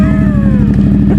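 A Ducati Monster 1200 engine runs close and loud with a deep, pulsing, throbbing idle that holds a steady rhythm through a short burst.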